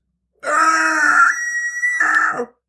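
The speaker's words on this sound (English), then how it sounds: "A monstrous scream erupted from deep in Anneliese's throat." A loud, sustained scream from a possessed woman in a dramatized exorcism, with a rising, strained tone that breaks off and then returns for a second shorter burst, heard alone.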